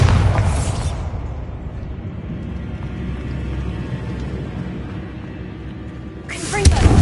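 A Bombarda explosion spell in Hogwarts Legacy goes off with loud bursts at the start and end, separated by a low rumbling tail, with a voice heard in the background.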